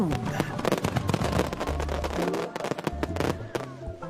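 Fireworks crackle and pop in a dense, continuous barrage of sharp bangs, moderately loud and steady throughout, with a faint musical tone running underneath.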